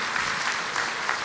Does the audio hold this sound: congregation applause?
yes